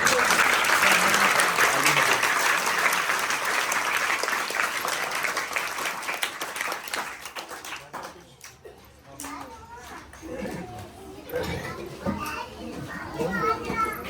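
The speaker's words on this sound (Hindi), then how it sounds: "इसी बात पे ताली हो याद" Loud applause and cheering from a devotional gathering, with children's voices mixed in, fading after several seconds into scattered chatter and further claps.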